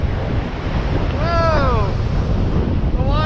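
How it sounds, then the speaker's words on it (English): Roaring ocean surf and gusting wind buffet the microphone during boogie boarding in typhoon seas, a steady loud wash with a brief whistling tone and a voice shouting over the waves. "We're out here in the ocean, boogie boarding."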